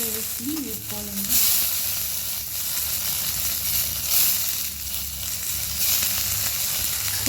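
Tomatoes frying in hot oil in a pan for a ridge gourd peel chutney, a loud, steady, close sizzle with bursts of crackling and stirring, and a voice sounding briefly at the start.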